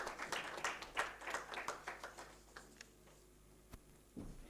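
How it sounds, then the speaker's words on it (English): Quiet scattered clapping from a small audience at a sustainability summit felicitation, fading within a couple of seconds into near silence with a faint knock at the end. "A huge round of applause for Shipra ji."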